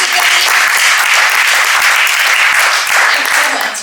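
A conference crowd at a business talk applauds steadily, close and loud, a dense wash of clapping that fades out at the very end.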